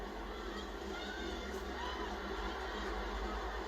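Football crowd at a women's international match involving the Matildas, a dense, distant roar of shouting and cheering fans that holds steady throughout.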